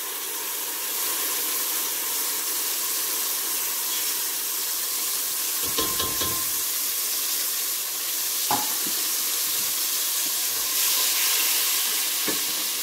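Ground chickpeas sizzle steadily in two tablespoons of hot oil in a pot, a continuous bright frying hiss broken by a few louder scraping stirs.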